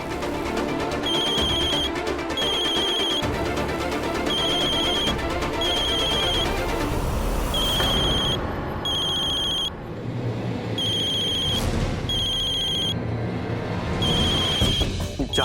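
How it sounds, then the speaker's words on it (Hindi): A mobile phone rings in a store room, its electronic ringtone repeating in short bursts over a busy background of other sounds. "किसका नंबर है ये? फोन किसका है ये?"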